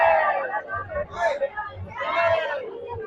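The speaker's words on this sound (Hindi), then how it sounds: "दर्शन के लिए काफ़ी मारामारी, काफ़ी भीड़ हो रही है यहाँ पर श्रद्धालुओं की" A dense crowd of devotees mills at Nidhivan temple in Vrindavan, with a babble of voices and occasional raised cries, close and continuous.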